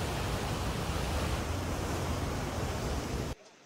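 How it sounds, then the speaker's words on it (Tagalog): Bahi-Bahi Falls pours gray lahar-laden water in a steady, loud broadband rush that cuts off abruptly near the end, leaving near silence. "Dumaloy rin ang lahar sa Bahi-Bahi Falls, kaya kulay abo na rin ang tubig na bumabagsak mula sa talon."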